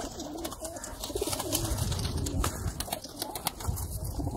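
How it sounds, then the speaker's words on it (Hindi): A bateira pigeon coos in soft, repeated throaty phrases up close, mixed with rustling and handling sounds as the bird is held. "ये भाई बटेरा कबूतर जे।"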